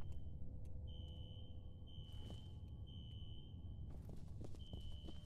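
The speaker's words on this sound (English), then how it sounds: "A fire alarm. It was triggered at a security office on that floor." A fire alarm in the video game F.E.A.R., triggered at a security office, gives a steady high electronic tone in repeated long pulses over a constant low rumble of background noise.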